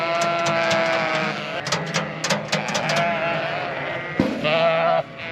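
Ewes bleating close by as they are herded into a barn in the dark: repeated overlapping bleats from several sheep, with a voice calling to them in between.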